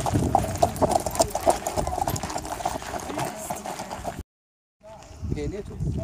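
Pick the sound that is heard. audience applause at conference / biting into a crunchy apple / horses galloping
horses galloping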